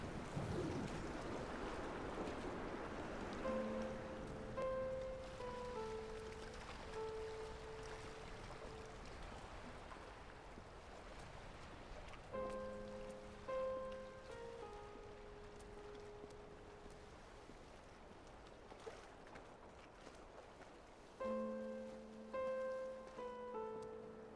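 Steady wash of flowing water and surf with rain-like hiss on a windswept shore in the game Dear Esther, continuous and moderately loud, with a soft melodic music line rising over it in places and no talking.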